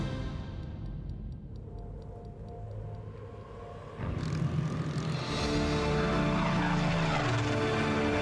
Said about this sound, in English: This is the Silver Spitfire, and the dream takes flight.